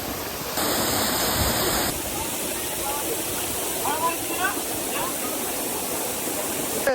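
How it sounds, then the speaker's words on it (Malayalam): Waterfall rushing through a forest, a steady broadband roar throughout, with a brief louder tonal burst near the start and faint bird chirps above the water. "വെള്ളച്ചാട്ടത്തിലാണ്"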